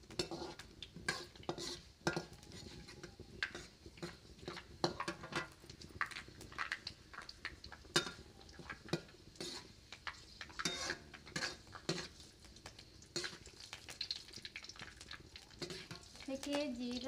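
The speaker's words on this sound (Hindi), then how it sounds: "देखिए जीरा और मेथी अच्छी तरीके से हम तेल में तल लेती हूँ।" Cumin and fenugreek seeds fry in oil while a utensil repeatedly clinks and scrapes the pan, sharp irregular stirring knocks over a soft sizzle, with brief quiet talk in places.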